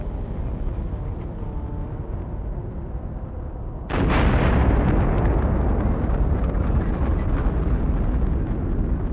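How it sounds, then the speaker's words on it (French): An atomic bomb test explosion in archival footage: a low, steady rumble gives way to a sudden loud blast, then a sustained heavy roar that continues to the end. "L'explosion monte si haut que le caméraman principal est obligé de rectifier le cadre."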